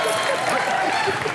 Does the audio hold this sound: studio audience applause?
yes